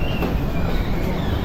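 Delhi Metro train pulling into platform 1 at an airport-style station, a steady close rumble of wheels and carriage noise with a faint high whine, continuous and loud throughout.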